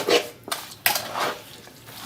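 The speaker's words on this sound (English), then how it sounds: "we're simply going to give all of this a good stir," A utensil stirs Javanese stewed chicken in a pot, scraping and clinking against the metal in a few irregular strokes, close and clear with no talk.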